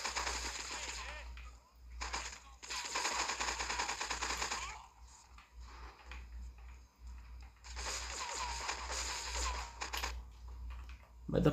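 Bursts of rapid automatic gunfire from a gun in the video game GTA 3, in several sustained volleys separated by short quieter gaps.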